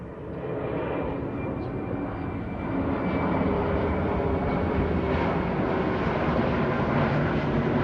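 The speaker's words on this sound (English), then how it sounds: "y'all got to see a plane first thing in the morning" A fixed-wing airplane passes overhead on a snowy morning, a broad continuous engine roar that swells slightly and holds steady throughout, with no voices.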